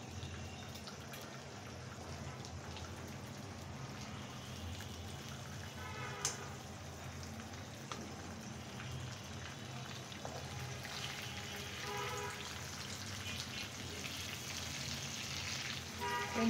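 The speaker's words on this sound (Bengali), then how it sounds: "লো ফ্লেমে আমি কিন্তু এটা ভেজে নেব, ফ্রাই করে নেব।" An egg frying slowly in a pan over a low flame, giving a steady, soft sizzle with faint crackles and occasional light pops that continues evenly throughout, with no voices.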